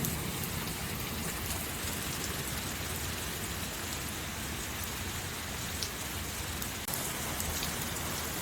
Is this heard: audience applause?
no